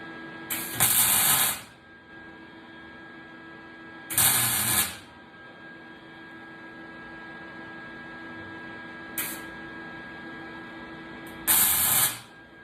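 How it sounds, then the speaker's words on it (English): Welding patch panels on the bottom of a 1969 Ford Bronco, four short loud sizzling bursts spaced several seconds apart over a constant hum, close up with no talk. "Throw some welds down here on the bottom."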